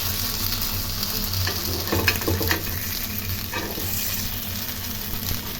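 Food pieces sizzling in hot oil in a pan, a loud continuous fry with a few scraping clicks and soft knocks as pieces are turned over.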